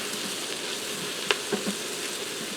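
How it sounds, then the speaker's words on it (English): Sliced baby bella mushrooms sautéing with onions in a pressure cooker pan give a soft, steady sizzle, broken by a few brief scrapes and clicks of stirring. "Now I'm going to add in 8 ounces of baby bella mushrooms I sliced."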